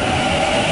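A suburban train pulls away from platform 2 at Thornleigh station, giving a brief, steady, close rumble with a thin sustained whine running through it.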